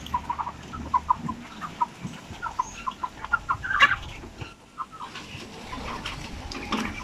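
Several chickens, including three-month-old Basilan chickens, cluck in short, scattered bursts nearby, with occasional louder squawks over a low background rustle.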